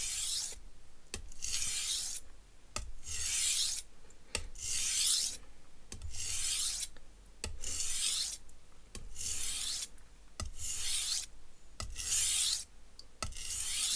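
Knife with an asymmetrical bevel drawn repeatedly across a sharpener, a steady series of about eight rasping strokes, each with a sharp scrape at its start, close and clear with no talking.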